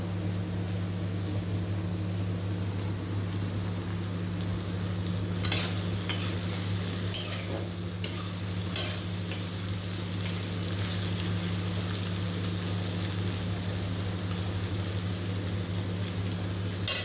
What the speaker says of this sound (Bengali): পেঁয়াজটা ভালো করে ভেজে নিই আগে